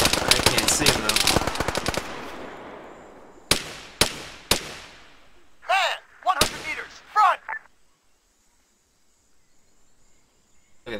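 A loud, fast machine-gun burst in ArmA 3 rattles for two seconds and fades, followed by several separate heavy single shots and a couple of shorter echoing bursts, then near silence.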